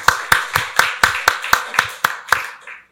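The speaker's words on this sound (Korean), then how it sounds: "박수로 하나님께 영광 돌리겠습니다." A church congregation claps in unison, about ten sharp, evenly spaced claps in a steady rhythm, close and crisp, ending abruptly with no talking over it.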